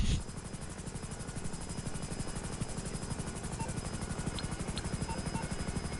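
A Hunter attack helicopter in GTA 5 drones with a steady, rapid rotor thump that continues unbroken, close and even in level, with faint clicks above it.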